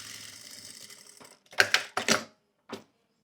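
A sewing machine stitches a bias binding seam, a steady whirring run followed by a few short close bursts of rapid mechanical clatter and a brief final stitch, with no talking.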